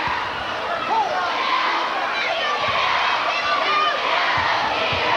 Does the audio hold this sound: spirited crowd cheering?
yes